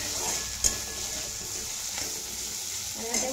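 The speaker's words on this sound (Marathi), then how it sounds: "आपण आता झाकण काढून मिरची हलवून घेऊ" Bell peppers being stirred in a pan after the lid comes off, a steady soft sizzle with a couple of sharp scraping knocks from the spoon, close and fairly quiet with no talking.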